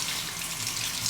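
Tap water runs in a continuous, even hiss into a sink to rinse a safety razor, close and steady for a brief moment with no voices.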